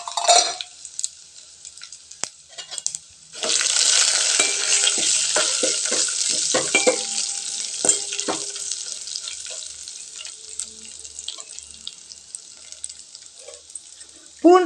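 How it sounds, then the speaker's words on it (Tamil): Mustard seeds, chana dal and urad dal sizzle in hot oil in a pan. After a few quiet seconds with light clinks, a loud, steady crackling hiss starts up, broken by occasional stirring scrapes, then gradually settles. "கடுகு பொரிஞ்சதும் ஒரு அரை ஸ்பூன் கடலைப்பருப்பு, அரை ஸ்பூன் உளுத்தம் பருப்பு சேர்த்துக்கலாங்க."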